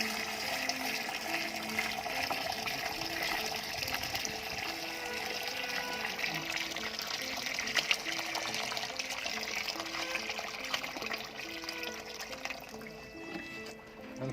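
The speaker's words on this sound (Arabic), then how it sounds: "هنعبيها بالمية بالشكل ده." Water running into a small tin bucket for compost, a steady close splashing and gurgling pour that continues evenly throughout, with the tone shifting slightly as it fills.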